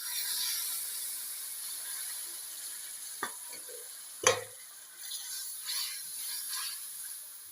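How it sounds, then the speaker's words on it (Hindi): Sugar syrup of melted sugar and water poured into suji and besan halwa and stirred, giving a steady soft sizzle with a few sharp scraping clicks of the spoon near the pan, no voice over it. "अब हम इसमें ये चाशनी ऐड करेंगे।"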